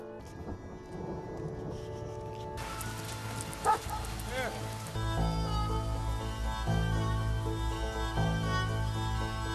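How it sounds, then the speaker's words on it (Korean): Heavy rain shower pouring steadily, with a sharp crack of thunder partway through and the downpour growing denser and louder in the second half, while a voice speaks over it. "한바탕 소나기가 지나가고"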